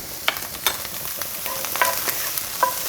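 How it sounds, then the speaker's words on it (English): Chopped onion sizzles steadily in a hot pan for a lentil curry while a utensil stirs it, scraping and clicking against the pan in several short strokes over the continuous frying hiss. "I'm just gonna stir it around just a little bit just to make sure that the onion's not burning."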